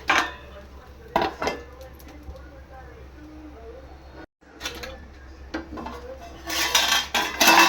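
Metal lid and pan clatter around a ridge gourd dosa on the stove, with sharp clanks at the start and a louder rattling burst near the end, speech-like sounds faint in between.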